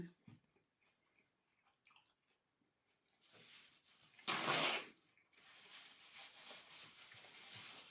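Someone bites into crispy fried banana spring rolls and chews, first with soft scattered crunches, then a loud close crunch, then steady chewing.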